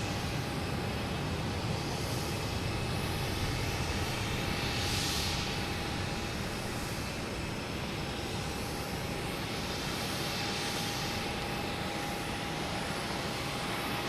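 A Delta A321 airliner at Boston Logan Airport, a loud steady jet engine roar with a sustained whine, close and continuous without voices.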